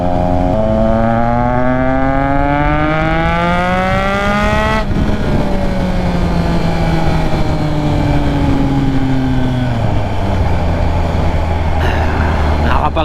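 Triumph Trident 660 three-cylinder naked bike engine revs hard and climbs in pitch, then drops sharply at each clutchless upshift, with two clear gear changes under a loud, close, steady exhaust note.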